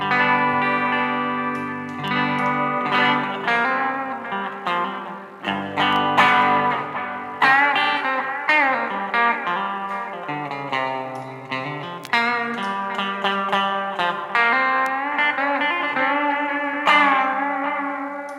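An electric guitar through an overdrive pedal used as a solo boost plays a lead line with sustained, slightly gritty notes and bends, heard alone and fairly loud.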